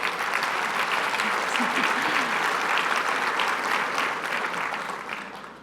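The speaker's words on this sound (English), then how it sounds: "Somebody out there was clapping." Audience at a Port of Long Beach State of the Port 2020 event claps in a sustained, fairly distant round of applause that fades gradually near the end.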